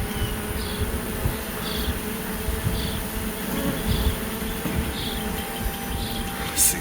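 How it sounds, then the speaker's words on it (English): Honeybees that had nested under a house buzz steadily and close by around a bee box, a continuous droning hum with no voices. "We got bees in the bee box."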